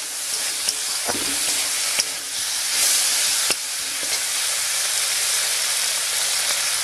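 Tomatoes fry in a pan for a Bengali bhola fish curry, giving a steady, close sizzle throughout with a few sharp clicks and scrapes as a utensil stirs them.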